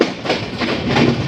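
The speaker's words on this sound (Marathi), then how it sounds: "फायनली गाडी आलेली आहे आपली शताब्दी एक्सप्रेस" A Janshatabdi Express train rolls through Diva Junction, a brief loud rush of wheels and carriages rattling past close by, with no talk over it.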